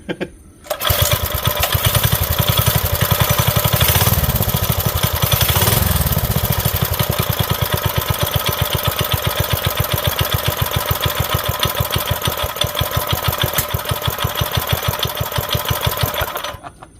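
A turbocharged Honda CB750 pro-mod motorcycle engine with a carburetor runs steadily at a fast, even idle while the throttle is held slightly open, loud and close throughout before cutting off at the end.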